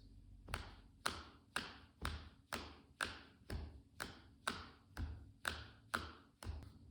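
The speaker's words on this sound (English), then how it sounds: "snare and hi-hat, snare and hi-hat" Fast drum beat alternating snare and hi-hat, with about a dozen evenly spaced sharp hits in a steady triple-feel rhythm, faint and alone.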